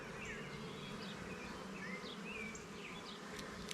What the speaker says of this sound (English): bees are just being crazy here